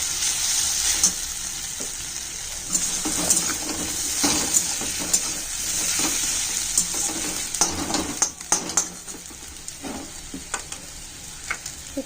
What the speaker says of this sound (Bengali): সুন্দর করে ভাজা হয়ে গেছে দেখতেই পাচ্ছ এতে এবার মশলাগুলো দিয়ে দেবো